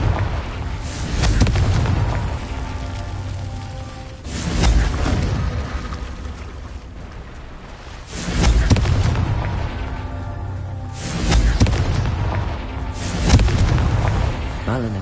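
Repeated Confringo explosion spells in Hogwarts Legacy, four loud booming blasts every few seconds with rumbling tails, under a game soundtrack with intermittent voices.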